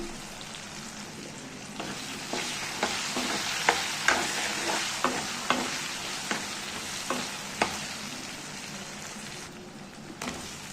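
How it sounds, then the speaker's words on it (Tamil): Drumstick pieces and spices fry in oil over low heat for kara kulambu, making a soft continuous sizzle with regular sharp scraping taps from stirring, at close range and with no talking. "இது எண்ணெயில் கொஞ்சம் ஃப்ரை ஆகட்டும் இது கூட அப்படியே முருங்கைக்காய் போட்டுடலாம்"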